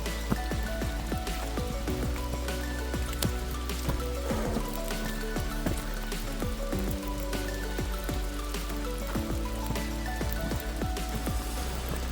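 Steady rain patters and drips onto rocks nearby on a mountain trail, a constant wash of scattered droplets with no voices.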